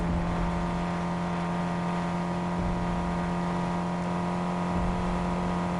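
A Fortnite car engine holds a steady revving drone at constant pitch, continuous and close, with no talk.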